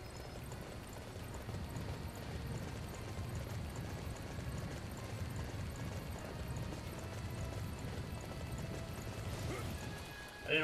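Hooves clip-clop steadily as a horse travels in a video game, a quiet continuous patter of footfalls with a faint mechanical whir, ending in a brief louder bump.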